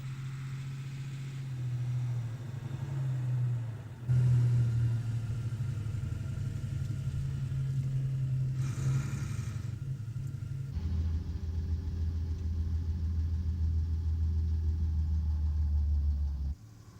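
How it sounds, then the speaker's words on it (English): A World War II German Vorn lorry towing a specialised trailer rumbles up with a steady, loud engine drone, the pitch shifting as it changes gear and slows to park, then the engine cuts off. "A second Vorn lorry drives up to park alongside the first."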